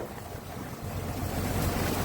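Strong sea wind and rolling waves at dawn in open water off Rayong, Thailand, a steady loud rush of surf and wind buffeting the microphone from aboard a boat, building slightly louder toward the end with no voices.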